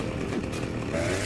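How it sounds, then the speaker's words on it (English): Chainsaw wielded as a weapon in the Saints Row 2 video game, a loud, close, buzzing engine drone that runs unbroken through the short moment. "Just keep using the chainsaw."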